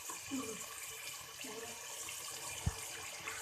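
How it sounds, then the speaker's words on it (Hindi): A little water is poured into a spice mix for beef haleem in a home kitchen, giving a soft, faint splashing trickle with a single brief knock partway through. "थोड़ा सा मैं इसमें पानी डाल दूंगी ताकि ये मसाला लगे ना।"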